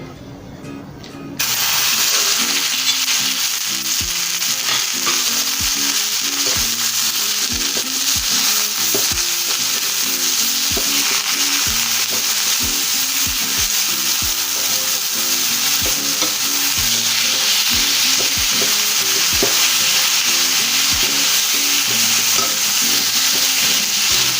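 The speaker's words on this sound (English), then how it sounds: "Let's get it cooked. Let's get it browned" Ground lamb browning in a hot pan for tacos, sizzling and crackling loudly and continuously with steady hiss and frequent stirring scrapes.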